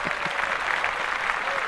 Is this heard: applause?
yes